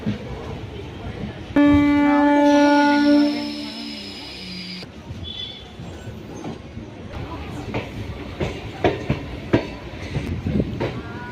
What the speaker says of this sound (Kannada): ನಮ್ಮ ಟ್ರೈನ್ ಈಗ ಬಾಣಸವಾಡಿ ಬಿಡ್ತಾ ಇದೆ